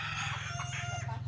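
Several chickens cluck and murmur close by in a short, busy burst over a low background hum.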